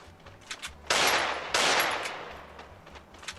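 Desert Eagle pistol fire in the video game Free Fire, two loud sharp blasts in quick succession with a long echoing tail, framed by fainter clicks and distant shots.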